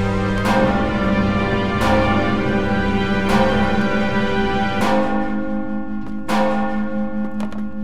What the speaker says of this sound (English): The town bells! Something is amiss outside!